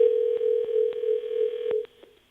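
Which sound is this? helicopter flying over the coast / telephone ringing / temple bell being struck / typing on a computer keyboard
telephone ringing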